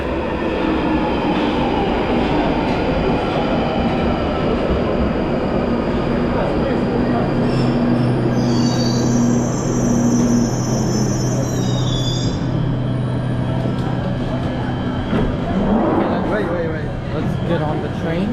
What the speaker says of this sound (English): And now the train is coming.